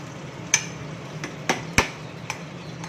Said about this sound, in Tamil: இந்த பிளைன் வெஜ் பிரியாணிக்கு எதுவோ உடஞ்சிடாமல் கிளறி விடுங்க